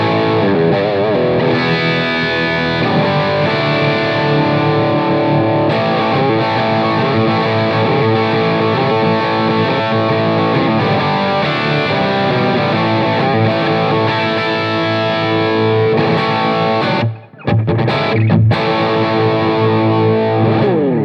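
Heavily distorted electric guitar through a Blackstar St James tube amp head, gain maxed with a 10 dB preamp boost, plays sustained chords and riffs, loud and saturated, with a brief pause near the end before ringing out again.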